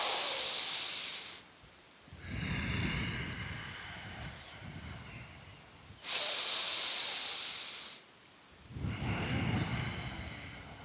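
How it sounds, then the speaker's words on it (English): Deep, slow yogic breathing held in a yogi squat: two full cycles of loud, hissing inhales and softer, rougher exhales through the nose, close and alone with no talking. "Let's take one more big full breath. Exhale."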